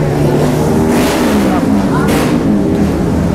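Racing motorcycles rev loudly in the paddock at a Brigif Cimahi motorcycle race, giving a steady, dense engine drone with rising and falling pitch, and voices talk over it.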